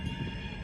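A South Shore Line train rumbles along the main line track, a continuous heavy low roar with a faint steady whine above, close and loud for the whole moment.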